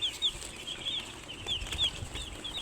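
Broiler chicks chirp in repeated high, short peeps, several overlapping calls at fairly even intervals, close and moderately loud over a soft rustling background.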